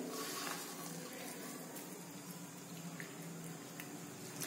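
Water trickling bit by bit from a cup into a gram flour (besan) batter for arbi leaf pakoras, a soft, steady pour with faint drips in a quiet home kitchen.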